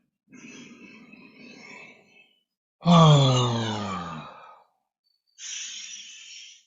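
A long, breathy human yawn during a Five Element Qigong relaxation session, preceded by soft breathing and followed by a quieter exhale, close and calm with no talk.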